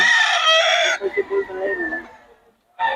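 A Sweater-bloodline gamefowl rooster crows loudly and close in a strained, harmonic burst, followed by softer broken clucking notes before another crow begins at the end.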